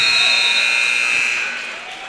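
A basketball game buzzer sounds at the end of a quarter in a varsity high school gym, a loud, steady electronic tone held for about two seconds over crowd noise before fading slightly.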